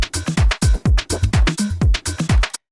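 A minimal house drum loop built from Splice samples: punchy kicks and short percussive hits repeat in a tight, even rhythm, close and dry, then stop abruptly at the end.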